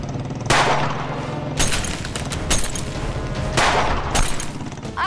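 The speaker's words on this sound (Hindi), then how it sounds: "यहाँ गोलियां चल रही हैं" Bursts of loud gunfire crack and boom repeatedly, clustered in rapid volleys amid crashing, shattering noise.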